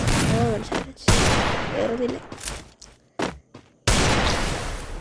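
Gunfire in a shooting video game, aiming for headshots, rings out in loud sharp bursts and single shots with reverberant tails and gaps between, while someone talks over it.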